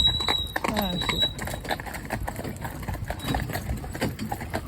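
Hooves of Cloud, a friend's schoolmaster horse, clip-clop in a steady trot through puddles and gutters, close and fairly loud over outdoor rumble, with a person talking over the top.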